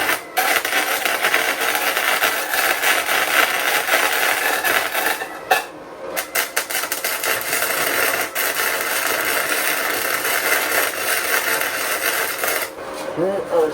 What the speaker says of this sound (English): finish welding on the ground